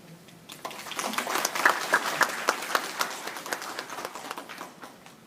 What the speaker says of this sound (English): Please give a round of applause to our president